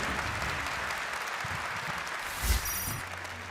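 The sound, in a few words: applause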